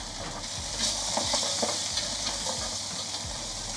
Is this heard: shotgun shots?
no